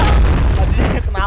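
Bomb going off in the War Clan video game, a loud, close booming blast with rumbling debris lasting about a second, voices audible alongside.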